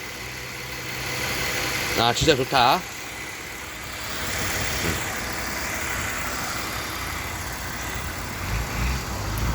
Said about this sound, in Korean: 엔진 소리 조용한 거봐